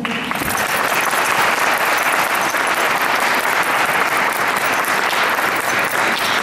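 Sustained audience applause fills a country and line dance awards ceremony hall, a dense steady wash of many hands clapping at constant loudness from start to finish.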